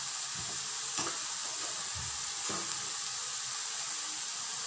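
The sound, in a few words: noodles stir-frying in red chilli and Kissan sauce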